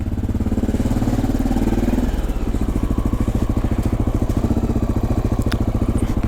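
A motorcycle engine idles close by on a New York City street as the bike is parked, a loud, steady, throbbing putter that shifts slightly in tone after a couple of seconds and then keeps a regular beat.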